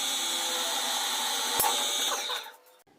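A power drill bores 8.5 mm holes in metal, a steady whining hum with a sharp click partway through, then winding down and stopping near the end.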